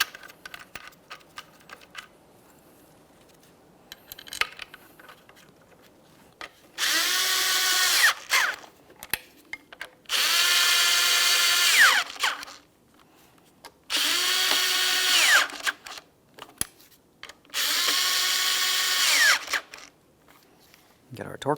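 A power tool drives the throttle body mounting bolts on a 2013-2020 Ford Fusion 2.0L I4 in four separate whirring bursts of about two seconds each, separated by quieter pauses with light clicks and handling noises.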